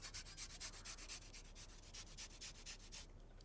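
Fresh ginger being grated in quick, even rasping strokes, about fourteen scrapes in a steady rhythm, close and fairly quiet with no voices, stopping after a few seconds.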